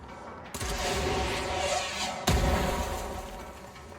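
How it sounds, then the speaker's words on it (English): Explosions in the video game Control rumble as a sustained, loud roar, with a sharp new blast about halfway through that renews the rumbling. "I love how you can just like outrun those explosions."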